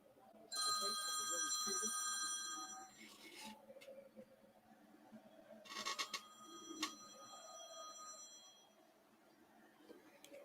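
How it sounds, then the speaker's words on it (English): A phone rings in a room with repeated electronic bell-like trills, one long burst then a shorter one, fairly clear over background commentary of a Vitesse Arnhem versus Tottenham Conference League match and quiet room noise. "My phone is just ringing there, so we're just gonna ignore that."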